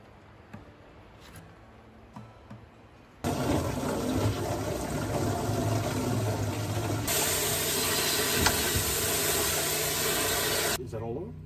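Lake water poured into a bucket for an off-grid drinking water system, a sudden steady rushing gush that runs continuously, changes tone partway through and then stops, after a quiet stretch with faint background sounds.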